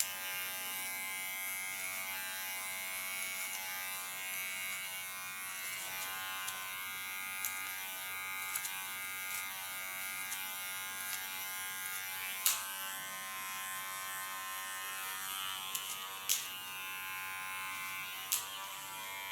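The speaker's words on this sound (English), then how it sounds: "Use my clipper as a comb." An electric hair clipper hums steadily while cutting hair for a short asymmetric bob, a close, constant buzz with a few faint clicks and brief snips of contact.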